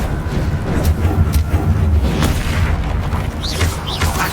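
Deep booming blasts from the Confringo explosion spell in the video game Hogwarts Legacy roll out amid continuous rumbling combat sounds and brief whooshing effects, loud and dense throughout.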